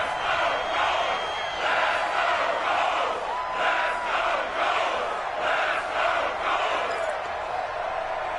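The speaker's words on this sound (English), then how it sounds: "the crowd getting into it as we come up on a big 3rd down" A stadium crowd roars in a football video game against the Jets ahead of a big third down, a continuous loud swell with rhythmic chanting pulses over the top.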